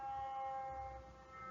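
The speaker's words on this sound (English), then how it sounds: "I'm going to pause till that siren passes." A steady siren tone drones from a distance outside, sustained and even under low city rumble.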